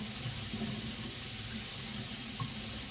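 Tap water runs steadily into a kitchen sink while freshly boiled eggs are rinsed to clear away leftover shell, a continuous hiss and splash with a few brief clunks of handling, no voices.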